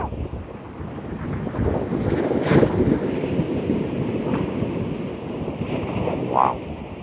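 Sea breeze on the Holderness coast at Withernsea, a steady southeasterly rushing across the microphone with broadband buffeting, a faint wash of surf beneath and no talk.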